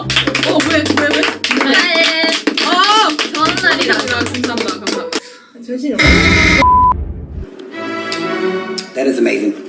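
A group claps hands during a live fan broadcast for a birthday. Bursts of clapping mix with lively talk and laughter, and short electronic beeps cut through midway.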